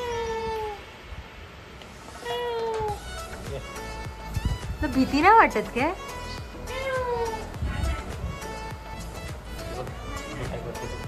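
A cat meows repeatedly at a house on a Konkan trip, rising and falling cries heard close amid chatter, with a person talking over and between the calls.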